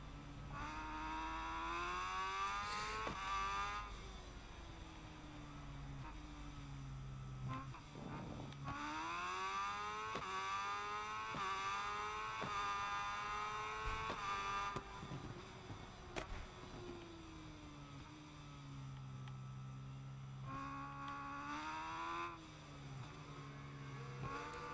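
A racing motorcycle engine in the SBK 22 game on PC whines and revs through the gears, pitch climbing and dropping repeatedly around a lap, with brief shifts and lifts between runs.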